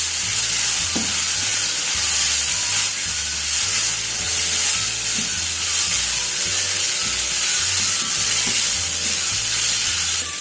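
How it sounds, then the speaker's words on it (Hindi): Calzone filling being sautéed in a pan with salt, chili and oregano gives a steady, loud sizzle, with occasional scrapes and clicks of a spatula stirring throughout. "इसको 1-2 मिनट और भूनेंगे"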